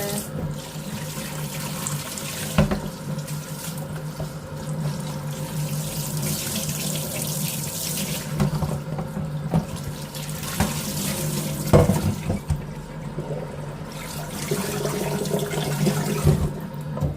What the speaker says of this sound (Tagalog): Let's wash it with some water.